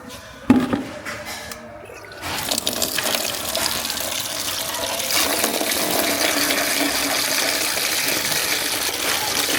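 Tap water runs into a sink at home, starting with a splash and then gushing steadily and fairly loud for several seconds.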